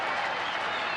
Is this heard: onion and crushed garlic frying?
no